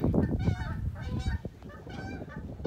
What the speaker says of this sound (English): Canada geese going by.